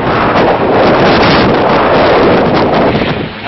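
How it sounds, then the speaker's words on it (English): Steady, loud wind buffeting a microphone on a cold hillside walk, a continuous roaring rumble with gusty swells and no voices. "Bit windy, very cold."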